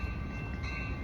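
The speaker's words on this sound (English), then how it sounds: "Behold, the new Siemens Venture trains." A new Amtrak San Joaquin train with a Siemens Venture set approaches the Antioch station, producing a steady low rumble with mechanical hum and rail noise close by.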